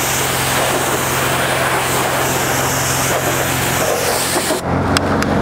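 A ceramic-coated pickup truck driving down a street, its engine a loud steady hum with strong road and wind noise, then cutting off abruptly near the end.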